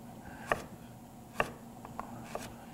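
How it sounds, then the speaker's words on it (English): A knife cuts kohlrabi into sticks on a cutting board, giving four sharp chops at uneven intervals over quiet background noise. "And then I'm gonna turn it around and cut it into sticks"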